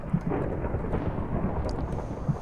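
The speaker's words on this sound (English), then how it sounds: "It's raining again." A Minecraft thunderstorm rolls on with deep, continuous thunder and rain, loud and close with a couple of slightly stronger rumbles, and no voices.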